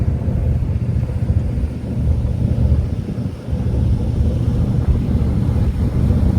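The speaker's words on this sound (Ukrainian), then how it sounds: "мотори ось це працюють і хвиля така гарна біла" A boat engine drones steadily on the way to Haad Rin, a deep continuous rumble mixed with rushing water and wind, loud and close, with no talking.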